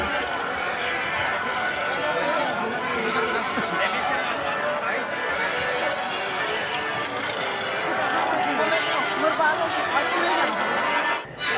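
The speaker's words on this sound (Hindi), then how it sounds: "और कितना भीड़ भाड़ कहते देख सकते था आप मन" A dense crowd mills around the entrance gate of the Bhajan Mela fair in Balpur, producing a continuous babble of overlapping voices and footsteps that stays busy throughout.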